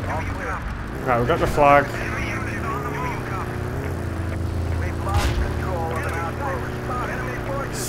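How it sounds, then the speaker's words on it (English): Propeller aircraft droning overhead in the game Battlefield 2 on the Highway Tampa map, a steady engine hum running under players' chatter for the whole stretch. "Oh my god, there's a plane above."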